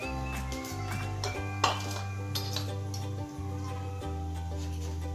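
Cumin and mustard seeds tossed into a hot pan for a Vidarbha-style curry of valache shenga, with scattered clinks of metal utensils and pan contact over a steady low kitchen hum, no talking.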